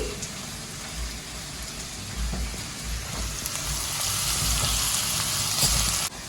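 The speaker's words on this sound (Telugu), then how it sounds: "లో ఫ్లేమ్లో అప్పుడప్పుడు మిక్స్ చేసుకుంటూ ఫ్రై చేసుకోవాలి" Ivy gourd (dondakaya) pieces frying in a pan over a low flame, a steady close sizzle and crackle with occasional stirring, growing slightly louder toward the end, with no voices.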